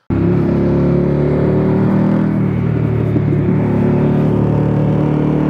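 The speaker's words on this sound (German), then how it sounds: "Und du hast auch einfach dieses bisschen Bollern so, bop, bop, bop, wenn du vom Gas gehst" Loud, close Harley-Davidson Pan America Special 1250 motorcycle engine burbling off the throttle, a continuous deep uneven rumble with low throbbing pulses throughout.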